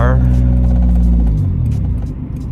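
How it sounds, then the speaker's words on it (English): A car engine hums and rumbles loudly while driving, its low tone easing lower partway through, with a voice talking over it. "honestly, just driving this car,"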